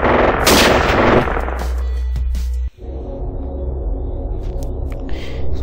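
A sharp, loud sniper rifle shot from the video game Sniper Elite 2 cracks at the start and rolls into a long reverberant tail, followed by a lower steady rumble of game ambience.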